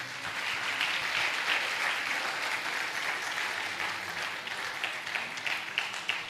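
A church congregation applauds steadily together, a dense wash of clapping that holds at an even level throughout without pause.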